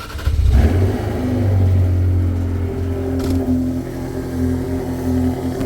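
A Ferrari driven by a 13-year-old accelerates, its engine rising to a loud, steady, close drone with a sharp burst at the start and a brief swell partway through, with no talk.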